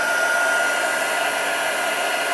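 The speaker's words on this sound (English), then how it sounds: "So I'm just heating up my heat gun." A handheld heat gun blows steadily at close range, a loud, even broadband rush of air that holds constant from start to finish with no voices over it.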